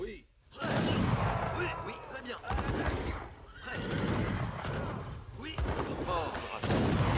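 Booming cannon blasts go off repeatedly amid chaotic battle noise, with horse whinnies and shouting voices mixed in.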